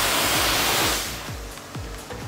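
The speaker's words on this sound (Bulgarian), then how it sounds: "Да пръскате кола наистина е много забавно" A self-service car wash wand blasts water onto a car, a loud dense hiss of spray that eases off partway through, followed by a few short splashes and drips.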